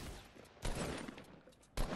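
Gunshots in the video game Fortnite, with two sharp bursts of fire, the second stronger, over a quieter stretch of faint game noise.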